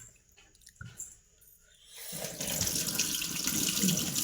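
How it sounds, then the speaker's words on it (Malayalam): Java plums (jamun) washed in salted water: a few soft clicks and handling noises, then running tap water splashes loudly and steadily into the bowl, close by. "ഉപ്പൊക്കെ ഇട്ട് നല്ല പോലെ ഒന്ന് കഴുകിയെടുക്കണം"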